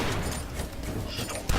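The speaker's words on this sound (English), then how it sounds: "That guy exploded into the other guy." An enemy bursting apart in the video game Dusk, loud crackling blasts amid a dense stream of gunfire, with a sharp boom near the end.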